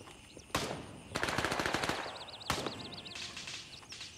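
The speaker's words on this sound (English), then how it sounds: "shots are everywhere" Machine-gun fire in the video game Grey Zone Warfare, several rapid bursts crackling at moderate distance with short pauses between them and a faint chirping in the background.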